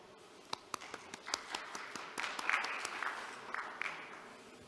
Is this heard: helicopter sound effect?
no